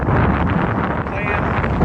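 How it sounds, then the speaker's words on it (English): Wind buffets the microphone on a frigid winter golf course, a loud steady rumble with gusty surges across the whole stretch and no clear talk. "It's a little bit windy."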